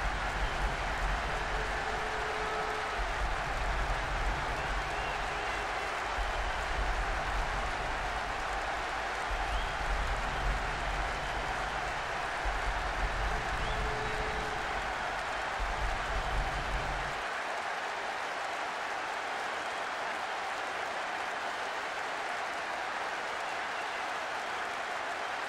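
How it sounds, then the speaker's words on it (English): Steady crowd roar from a PES 2013 football video game match, a broad continuous wash of stadium noise that drops away abruptly about two-thirds through, leaving a quieter hiss. "The crowd starting to get impatient now."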